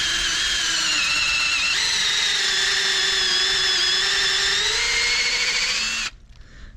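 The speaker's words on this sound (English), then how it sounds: "we are just going to drill this into the tree at a slight upward angle" Power drill with a 7/16 bit boring into a maple tree trunk for tapping, a loud steady whine that dips slightly as it bites into the wood, then cuts off abruptly near the end.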